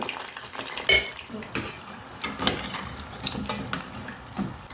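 Cassava vada frying in hot oil and being turned over in the pan, with a few clear clinks and scrapes of a utensil against the vessel over a soft, steady sizzle.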